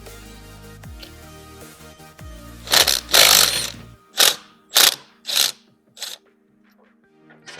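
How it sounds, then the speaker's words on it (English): Socket ratchet loosening a 21mm axle nut on a Nami Klima electric scooter wheel: a few faint clicks, then a series of loud rapid ratcheting bursts, roughly five or six, separated by short pauses, close up and without talking. "we're going to use a 21mm socket to remove this nut"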